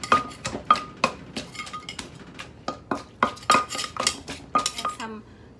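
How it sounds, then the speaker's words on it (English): Thai papaya salad ingredients being mixed in a bowl for som tam, with repeated close clinks and scrapes of a utensil against the dish in an irregular rhythm, no talking. "mix a little bit"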